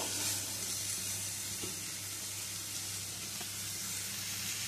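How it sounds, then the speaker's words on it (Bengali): Spice paste sizzles steadily in a hot pan while being sautéed for a vegetarian dish, a soft continuous crackle and hiss with faint stirring scrapes and no talking. "গুলিয়ে রাখা মশলাটা দিয়ে আবারও কিছুক্ষণ মশলা কষিয়ে নেব।"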